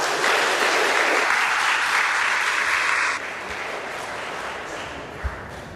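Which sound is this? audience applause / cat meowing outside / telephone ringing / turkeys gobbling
audience applause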